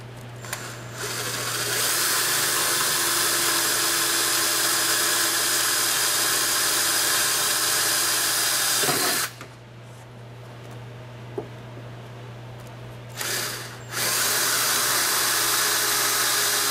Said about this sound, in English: Kind of a wobbly drill bit.